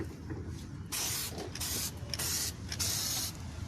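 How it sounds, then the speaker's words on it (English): Copper gasket spray hisses from an aerosol can onto the head gasket of a Chrysler 300 2.7 during a head gasket replacement, in several close bursts of about half a second each, separated by short pauses. "Spraying down the head gasket. Copper spray a gasket."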